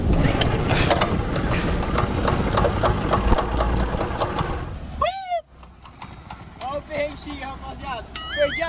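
A rough, loud engine on an abandoned trike chugs and clatters for about five seconds, then cuts out abruptly. Excited voices follow in the quieter space.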